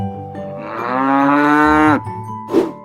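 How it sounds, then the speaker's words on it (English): A single long, deep cow moo swelling and holding steady before cutting off, followed by a short low grunt. "C is for cow."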